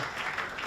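Brief burst of applause from a church congregation clapping for the women, a short steady patter of hands with no voices over it.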